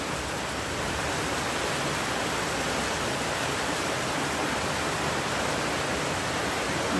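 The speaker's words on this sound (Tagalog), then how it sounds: "Lakas ng ulan, sanaw na naman." Dense, unbroken roar of heavy rain pouring steadily, loud and close, with no pauses or voices.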